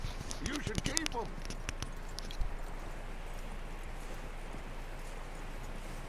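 Clip-clop of horse hooves walking at a steady pace in Red Dead Redemption 2, fairly quiet, with a voice speaking over the first second or so.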